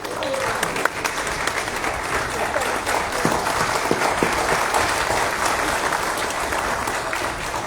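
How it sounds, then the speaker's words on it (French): An audience at an official workshop applauds Sultan Soudour, with sustained, dense clapping from a full room that holds steady, moderately loud, for the whole stretch. "Levez-vous, M. Sultan, qu'on vous applaudisse."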